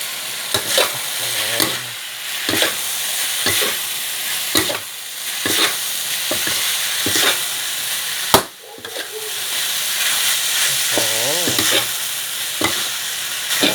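Minced pork stir-fries in oyster sauce with chili paste, a loud continuous sizzle broken by regular rhythmic spatula scrapes against the pan, with a sharp knock midway; no talking.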